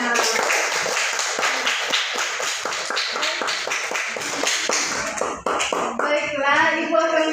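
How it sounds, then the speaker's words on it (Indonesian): Classroom clapping as students follow a teacher's rhythmic clap routine, fast close hand claps in steady bursts with children's voices mixed in, ending with excited chatter. "tepuk tangan untuk semuanya"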